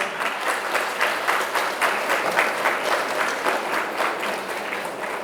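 An audience at the Indian School Bousher annual day breaks into sustained applause, many hands clapping in a dense, pulsing patter at moderate loudness that stays steady to the end, with no speech over it.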